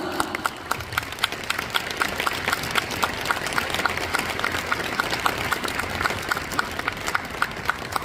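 Applause from a crowd at a village and neighborhood heads' sports day, steady clapping that carries on for the whole stretch, with occasional chatter mixed in.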